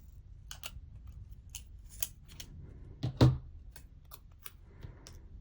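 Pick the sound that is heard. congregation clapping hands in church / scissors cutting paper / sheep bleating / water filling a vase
scissors cutting paper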